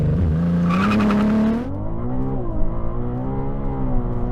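A Ferrari or McLaren sports car accelerating hard from a standstill on a standing quarter-mile run, its engine note climbing loud and steady, then dropping briefly and rising again as it keeps pulling.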